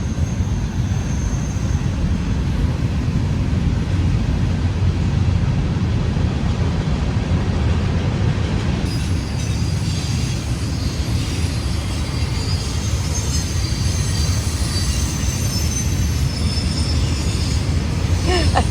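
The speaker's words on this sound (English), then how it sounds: "That's the sound of the train coming through the campsite." A train rumbles steadily past through a campsite on the Mississippi River at night, heavy and continuous, with metallic wheel squeal and rushing noise building in the second half.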